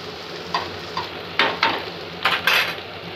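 A spatula stirs stuffed okra and shredded fried beef in a pan, giving close, scraping bursts at an irregular rhythm over a steady background sizzle.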